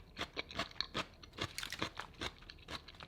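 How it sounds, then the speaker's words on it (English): Close, loud crunching of crisp raw onion being chewed, bite after bite in a quick irregular rhythm, no talking. "Here's some onions. Ooh. Oh yeah. So crunchy."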